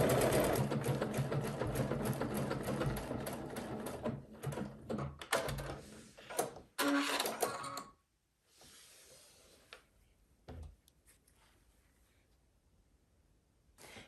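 A sewing machine runs decorative stitching with an open toe foot, a fast steady whirring rattle for several seconds, then pauses, with softer intermittent stitching bursts after.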